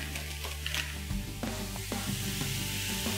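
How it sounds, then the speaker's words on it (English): Mushrooms sweating in olive oil in a pan give a steady close sizzle and crackle, with a few soft knocks of the pan and stirring, no voices. "olive oil for those mushrooms there, just to sweat them down"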